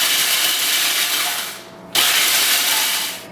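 Food processor pulsing graham crackers, pecans and salt: two loud grinding bursts with a brief pause between them, the blades rattling and crunching through the dry mix up close.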